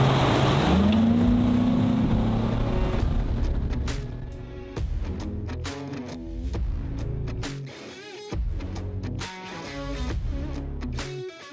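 A Phoenix 21 XE bass boat engine drones and surges, its pitch rising as it accelerates, then thumps and splashes come through irregularly as the hull slaps across boat wakes.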